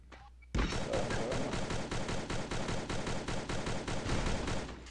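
Gunfire in the Free Fire battle royale game: after a brief quiet moment, a loud rapid burst of shots breaks out and keeps going as a continuous, pulsing fusillade for about four seconds.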